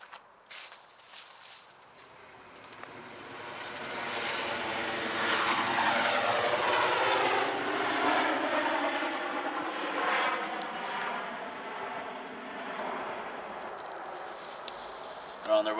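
An aircraft flies home after touch-and-go landing practice near an abandoned lumber yard camp. Its engine drone swells as it passes overhead, holds for several seconds, then fades away into quiet night air.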